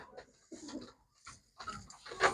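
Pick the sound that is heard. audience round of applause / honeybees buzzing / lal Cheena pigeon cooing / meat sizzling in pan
lal Cheena pigeon cooing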